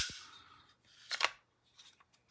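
A quiet metallic sliding scrape followed by a soft click as the bolt carrier of an AR-15 gas blowback airsoft rifle with steel chamber slides forward, with faint small clicks afterward and no talking.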